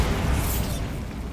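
A Bombarda spell blast in the video game Hogwarts Legacy, a single loud booming explosion that bursts at once and rumbles briefly before fading.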